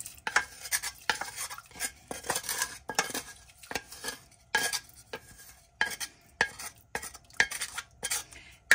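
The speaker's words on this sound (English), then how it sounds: "And now I'm going to add in my sauteed onions and garlic." A spoon stirs drained sausage and sautéed onions and garlic into a pot of Zuppa Toscana soup, giving repeated close metallic scrapes and clinks against the pot in an uneven rhythm, with no talking.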